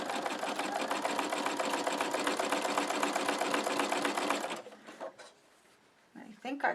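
Embroidery sewing machine stitching an in-the-hoop postcard, a fast steady mechanical rattle running for several seconds before stopping, followed by a few clicks and a quiet voice.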